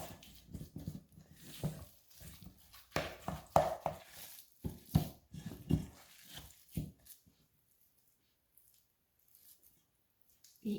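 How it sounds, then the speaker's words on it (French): A meatball mixture is stirred and squished by hand or spoon in a bowl, giving soft, wet squelching and patting sounds in an irregular rhythm, close and moderately loud, then dying away into near silence. "Et je mélange."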